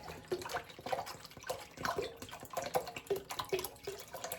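Bottled water pours steadily into a pot for a home elderberry and aronia syrup, a continuous close splashing and gurgling stream with uneven surges, no talk over it.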